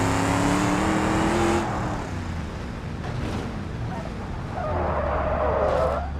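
A Togg car's simulated engine drives and accelerates in the BeamNG.drive crash-test game, its tone climbing in pitch early on, easing off, then revving again near the end over a steady broadband road rumble.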